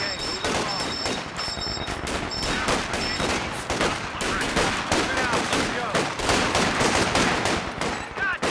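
Continuous machine gun fire from a Company of Heroes battle, rapid bursts crowding together in a dense rattling fusillade with distant explosions mixed in, loud and unbroken for the whole stretch.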